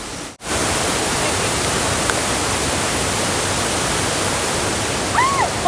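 Water rushes steadily through Wang Chung Stream in Hong Kong, a dense, close, continuous roar of flowing water that holds evenly throughout after a brief opening thump.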